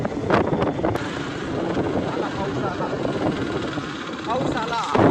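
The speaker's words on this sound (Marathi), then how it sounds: "अयो लय वारा सुटला आता." Strong wind buffets the microphone outdoors as rain approaches, a steady loud broadband rumble with gusts throughout, with someone talking over it.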